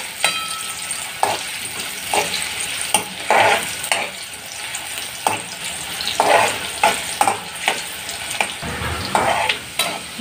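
Sliced onion and bay leaf fry in a hot pan, browning for chicken vada, with a steady sizzle broken by repeated scraping stirs of a spoon against the pan; close and fairly loud, no voices.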